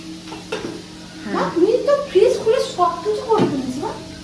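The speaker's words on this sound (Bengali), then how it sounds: "ওখানে সোয়াবিন ভাজা হচ্ছে" Soybean chunks sizzle and are stirred in a frying pan in a home kitchen, a close crackling hiss with scraping stirs, mostly under people talking.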